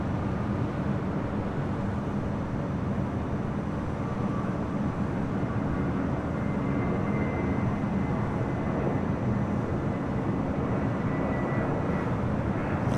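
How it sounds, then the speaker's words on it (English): An American Airlines airliner coming in from JFK at LAX at night, a steady loud broadband jet roar with a faint high engine whine, no voices. "That flight was American Airlines Flight 1848 coming up from JFK"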